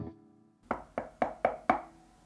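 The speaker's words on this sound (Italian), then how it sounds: "Nessuno mi ha mai chiesto di picchiettare una chitarra per indovinare quale sia." Knuckles tapping on the body of an electric guitar with its volume turned off, giving five close, hollow knocks in a fairly even rhythm, heard alone after a brief low hum.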